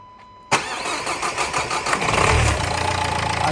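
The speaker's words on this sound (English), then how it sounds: "I'm just going to fire the car up and you'll hear the noise of the engine" A Nissan Qashqai engine cranks and fires with a sharp start, then settles into a steady, close idle that grows slightly fuller after a couple of seconds.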